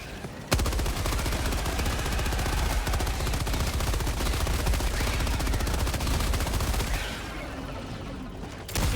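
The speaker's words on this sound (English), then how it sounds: "the machine gun kind of just shreds those guys very easily" A video game machine gun fires one continuous, loud, rapid burst for about eight seconds, mowing down swarms of enemies, then eases off slightly before a final push.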